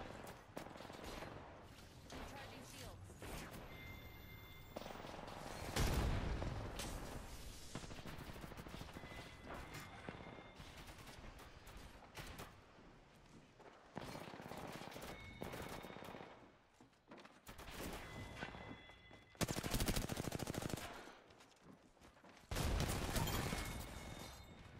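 Bursts of automatic gunfire fill an Apex Legends match: loud rapid rattling volleys that come in repeated waves with short pauses between them, mixed with single sharp shots.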